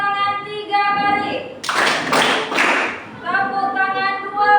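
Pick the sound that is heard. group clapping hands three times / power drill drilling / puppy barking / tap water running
group clapping hands three times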